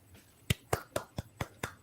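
A single person claps hands in a steady rhythm, about seven crisp, close claps spaced evenly apart with no talking over them.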